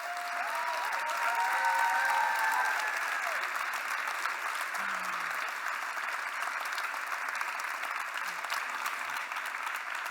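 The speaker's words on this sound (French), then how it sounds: "mériteraient une bonne main d'applaudissement pour nous offrir" An audience gives sustained applause for the organisers of an event, a steady wash of many hands clapping throughout, with a faint voice briefly audible near the start.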